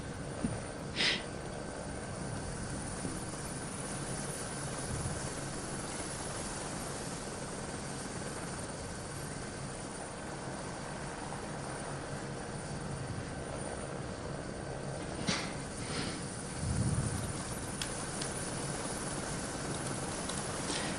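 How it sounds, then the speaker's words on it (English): A helicopter hovers over a cycling race podium at the Faun-Ardèche Classic, giving a steady, even rotor drone throughout with a couple of brief faint clicks and no voices. "we are not hearing any sound from the podium, but only the helicopter sound."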